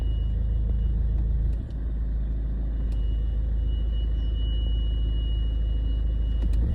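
Steady low road rumble from inside a moving Ford car whose handbrake caliper is dragging, a continuous drone with no voices and one brief dip partway through.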